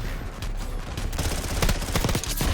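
Rapid bursts of PPSh-41 submachine gun fire in Black Ops 6, loud and close, with dense overlapping shots and short gaps between sustained volleys.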